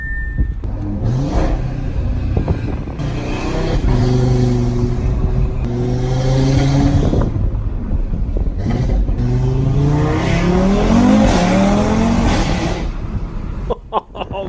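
An Audi RS3 engine revs hard and accelerates, its rising harmonic snarl climbing through several quick early upshifts, loud and sustained with a brief drop near the end.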